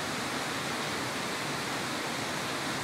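Antônio Monteiro waterfall at Pocinhos do Rio, a steady dense roar of falling water heard close and loud, with no voices.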